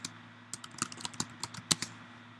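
Fingers tap out a message on a computer keyboard in short irregular bursts of light, close clicks over a quiet background hum, with no talking.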